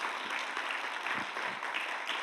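Church audience applauding a sermon preacher, a steady wash of many hands clapping at a moderate distance, even and sustained, with no voices on top.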